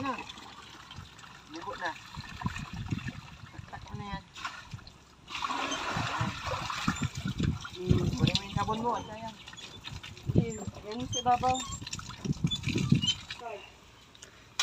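Water splashes and trickles as items are washed in soapy water and the water is changed. Close, irregular splatters sound over steady talking.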